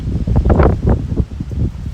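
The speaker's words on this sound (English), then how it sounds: "God, it's really windy." Gusty wind buffeting around an old farm house, loud irregular whooshes and rumbling bursts close to the microphone, rising and falling in quick surges.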